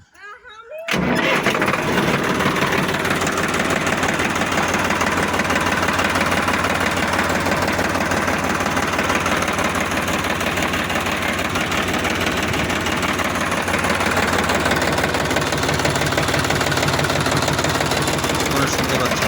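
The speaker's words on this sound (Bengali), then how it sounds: "গাড়ির সুন্দর সাউন্ড তো এভাবেই গাড়ি স্টার্ট হয়েছে" Sonalika 50RX tractor diesel engine cranks and catches after a brief silence, then settles into a loud, steady knocking idle that runs continuously up close.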